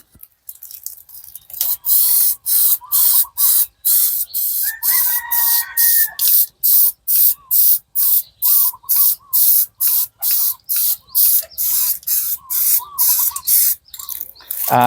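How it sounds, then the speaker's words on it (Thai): Black gloss 2K premium spray paint hisses from an aerosol can in a long series of short, sharp bursts, loud and close, with brief pauses between each spray. "เมื่อเขย่าได้ประมาณ 2 นาทีแล้วนะครับ ก็ อ่าฉีดพ่นปกตินะครับ"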